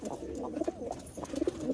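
A Kagji pigeon, one of a batch of Malwai pigeons for sale, coos in soft repeated rolling phrases close by, with no talk over it.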